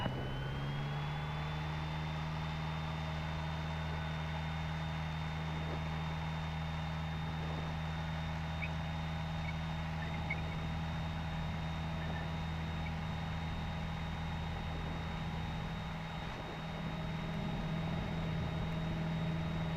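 Light aircraft at the start of its takeoff roll on runway 36, a steady loud engine drone with a rising high whine, constant and close throughout with no talk.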